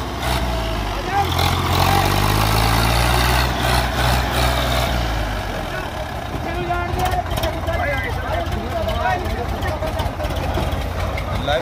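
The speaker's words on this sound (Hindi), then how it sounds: "भाई तड़ देख दो स्वराज की कैसी आवाज, ये देख लो कैसो फराटा मार रहा बिल्कुल।" A Swaraj 855 tractor engine roars loud and close with a deep, throbbing rumble that revs up and settles, as a voice talks over it while tractors are readied for a tug-of-war contest.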